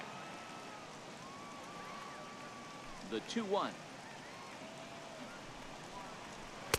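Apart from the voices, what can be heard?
rain falling in a baseball video game, MLB The Show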